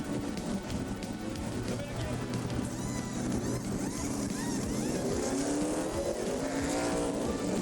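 NASCAR stock cars in a 1989 race roar through turn 1 after a restart, engines blending into a loud, continuous, rising howl. Light commentary sits underneath.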